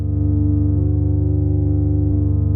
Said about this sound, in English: right now we're hearing that sample and hold